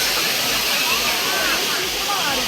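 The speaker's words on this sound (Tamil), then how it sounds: "பழைய குற்றாலம் அருவியில் சுற்றுலா பயணிகள் உற்சாகத்துடன் குளித்து மகிழ்ந்தனர்" At Old Courtallam waterfall, where tourists are bathing, falling water roars in a steady, dense rush that fills the whole stretch without a break.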